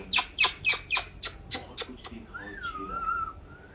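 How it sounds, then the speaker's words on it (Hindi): A cockatoo parrot whistling: a rapid series of about eight sharp, clicky chirps, then a longer sliding whistle, close and clear in a quiet room. "सीटी बजा के दिखाता"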